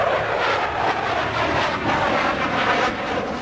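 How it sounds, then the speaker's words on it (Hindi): An HAL Tejas fighter jet flies at the Aero India air show at Yelahanka Air Base in Bengaluru, giving a loud, sustained roaring rush of engine noise that swells and fades slightly, with no voices heard. "एरो शो में तेजस अपना जलवा दिखा रहा है।"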